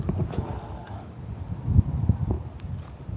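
A horse's hooves clip-clop and stamp on a riverside path on the Te Awa River Ride in Cambridge, close by, with a few heavy thuds and some light wind noise around them.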